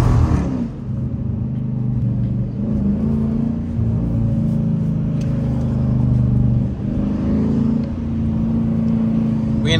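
A Dodge Challenger R/T driven through city streets gives a steady, close engine rumble with mild rises in revs and no clear break in the drone.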